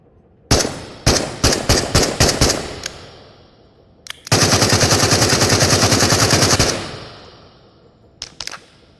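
Rifle fire from the VR shooter game Into the Radius rings out close and loud, first as a string of separate single shots, then as a sustained automatic burst of about two seconds, with a few last shots at the end.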